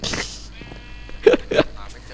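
Two short sheep bleats from Minecraft sound out in the middle of a survival-mode session, close and fairly loud, with background sounds and voice-like noise around them.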